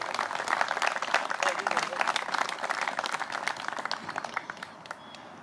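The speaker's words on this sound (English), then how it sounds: "So we'd like to give him a round of applause for all his work." Applause from an audience at a famine commemoration honours a memorial caretaker, with dense clapping that carries on steadily and then thins and fades toward the end.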